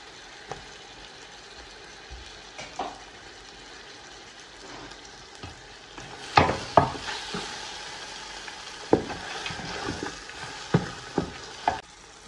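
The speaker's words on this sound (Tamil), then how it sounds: "போட்டு நல்லா மிக்ஸ் பண்ணுவோம். மூணு பெரிய தக்காளி, பழுத்த தக்காளி" Ripe tomatoes fry and get stirred in a pan for beef biryani, a soft sizzle under repeated scraping clacks of a spoon against the pan that grow louder and more frequent partway through.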